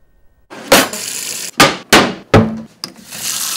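Kitchen clatter in a New York City public housing apartment: a few sharp metallic clangs and knocks of pots and utensils, loud and close, separated by short pauses.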